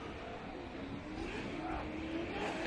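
Subaru BRZ drift car on a Formula Drift qualifying run in Texas, its engine heard at a distance as a rising, sustained rev with a climbing pitch, fairly faint and steady.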